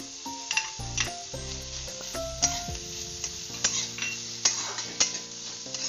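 Grated potato with carrot and onion fries with a constant sizzle in a pan, punctuated by regular metallic scrapes and taps of a stirring spoon, close up and without speech.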